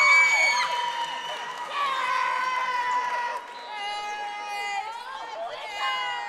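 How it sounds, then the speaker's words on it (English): Orchard Park fans cheering and shouting in a high school gym during a boys volleyball match, a steady crowd roar with whoops and children's voices that swells and dips but never stops. "And you can hear the Orchard Park fans cheering."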